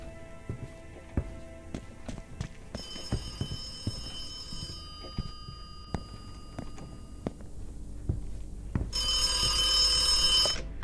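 A public payphone rings in the video game The Occupation: two bursts of loud electronic bell ringing over a bed of game music and ticking, with the second burst near the end swelling the loudest.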